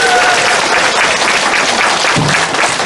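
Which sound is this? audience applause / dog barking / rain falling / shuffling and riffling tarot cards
audience applause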